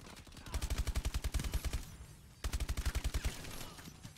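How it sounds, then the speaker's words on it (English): Cannons fire in a competitive multiplayer video game match, in two rapid volleys of roughly a dozen punchy shots each, separated by a brief lull, with a faint voice underneath. "they got like fucking cannons shooting me"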